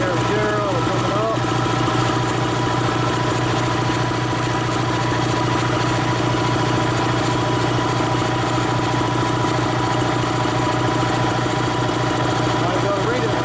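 A Dayton Speedaire 7.5 hp air compressor runs loud and steady as it pumps up from empty, a continuous droning motor and pump noise with a strong low hum that holds throughout.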